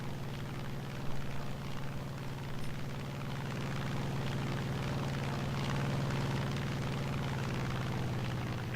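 A P-47 fighter's radial propeller engine droning in War Thunder during flight over Norway, a steady loud hum that swells slightly, continuous with no voices.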